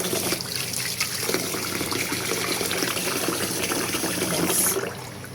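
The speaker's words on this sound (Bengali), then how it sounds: "এখন আমি এগুলোকে এইভাবে স্ট্রেনারে রেখে এই পাত্রে ভিজিয়ে রাখবো।" Water runs and gushes steadily into a vessel where rice sits in a strainer to soak, a loud continuous flow that eases off at the very end.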